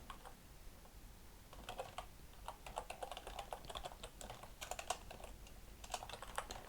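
Keys clatter on a computer keyboard as C++ code for a class constructor is typed, a quiet close-up run of irregular clicks in short bursts and pauses.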